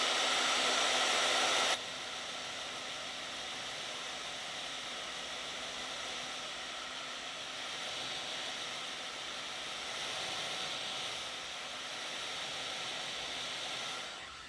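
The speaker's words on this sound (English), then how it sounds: "And then let's blow dry that for a quick minute." Hair dryer blowing steadily on an ArtFoamies craft stamp, loud and continuous at first, then a bit softer and constant for the rest, with no talking.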